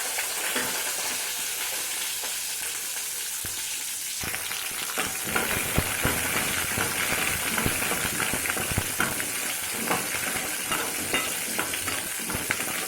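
Garlic and onion sautéing in a pan for poondu chutney, a dense continuous sizzle with scattered crackles and light stirring throughout, close and steady.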